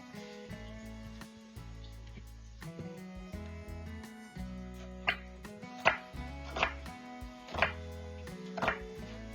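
Kitchen knife chopping through onion sections on a cutting board, dicing them: a slow series of distinct, sharp cuts that come more crisply toward the end, with low background music underneath.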